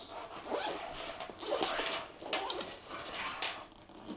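A carry-on cabin bag's zipper is pulled shut in a few quick rasping strokes, close up and crisp, with no voices.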